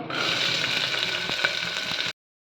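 Steady, dense crackling sizzle of mustard seeds and dal popping in hot oil, close and continuous, then abruptly cutting off.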